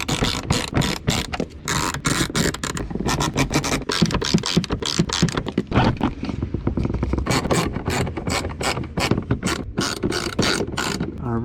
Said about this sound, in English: now we can begin by putting in the 3 bolts that hold in by the defroster